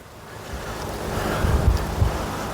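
Strong wind gusting across an open golf course, a broad roaring rush that swells louder toward the end with low buffeting thumps against the microphone; no one speaks.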